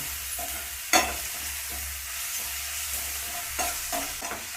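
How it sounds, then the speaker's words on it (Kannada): Onion and green chili paste frying in a pan, a soft steady sizzle broken by stirring scrapes and a sharp spatula knock early, with a few more clatters toward the end. "ಒಂದು ಎರಡು ನಿಮಿಷ ಚೆನ್ನಾಗಿ ಫ್ರೈ ಆಗಲಿ"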